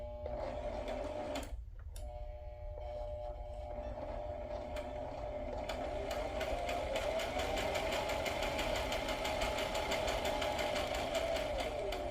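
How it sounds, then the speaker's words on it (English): A sewing machine stitches pieces of lace together, running steadily and loudly for most of the clip with a whirring motor and rapid needle rhythm, pausing briefly near the start before carrying on without any talk. "So what I'm going to do is go ahead and sew that together"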